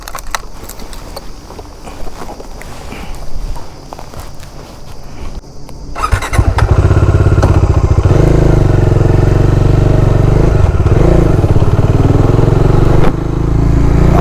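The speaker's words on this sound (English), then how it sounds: "I'm taking the bike for a ride now." A Bajaj Dominar 400 BS6 motorcycle, 2021 model, first a lighter clattering mechanical sound, then a loud, steady engine drone as the bike rides off, close and continuous without speech.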